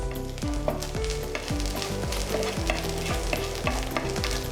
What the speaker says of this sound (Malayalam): അതുവരെ നമുക്ക് നന്നായി മിക്സ് ചെയ്ത് കൊടുക്കാം